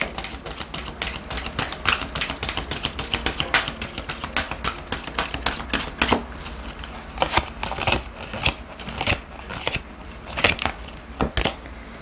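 Oracle cards are shuffled and drawn in a tarot reading, making a close run of rapid papery flicks and riffling snaps that come in uneven bursts.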